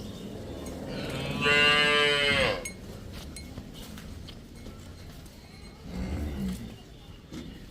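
A Nili-Ravi buffalo heifer on a farm gives a loud, drawn-out low lasting about a second and a half, followed later by a shorter, fainter call, with farmyard bustle and some nearby voices.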